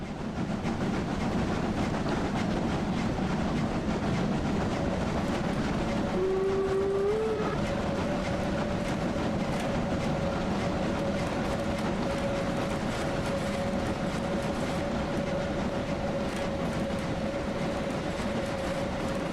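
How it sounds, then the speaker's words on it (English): A train on the Brocken railway runs steadily and loudly close by, with a continuous rumble and rolling wheel noise throughout and a brief whistle tone partway through. "you see the train crossing your path over and over and over"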